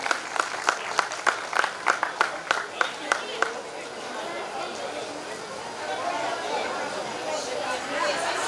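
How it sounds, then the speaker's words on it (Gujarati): Audience clapping at a Shrimad Bhagavad katha held by the Kotadiya family in Ranpar: a burst of sharp, rhythmic claps for about three seconds, then fading into a steady crowd murmur and babble. "અશ્વિનભાઈ કોટડિયા કરે છે જોરદાર તાળી"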